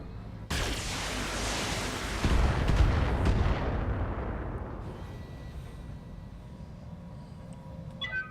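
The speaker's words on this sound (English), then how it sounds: "Commencing Alpha Strike." A BattleTech mech fires an alpha strike, all weapons at once, in a loud, roaring barrage of cannon and missile blasts that swells, booms and then rumbles away into fading debris and faint electronic tones.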